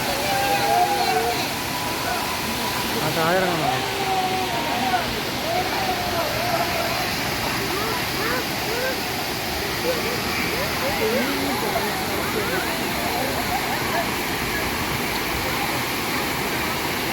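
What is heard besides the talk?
small waterfalls rushing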